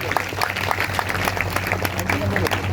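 A church congregation claps together during a Sunday sermon, a dense, steady patter of many hands filling the room at full volume with a low hum underneath.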